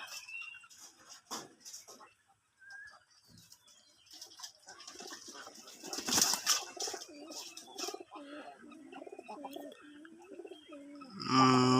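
Pigeons bathing, a black and a white pair among them, with soft intermittent wing flaps and splashes, a louder burst of flapping near the middle and a final close flurry, over faint coos and a voice talking at times.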